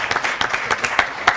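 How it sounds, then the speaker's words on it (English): A short burst of applause at the official launch of Business Development Services Standards, clapping from a gathered audience with several sharper claps standing out, fairly close and alone without talk. "A round of applause."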